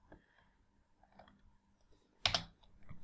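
A computer keyboard typed on while setting up JavaFX in Eclipse, with a few faint key clicks in a quiet room and then a brief, louder cluster of keystrokes near the end.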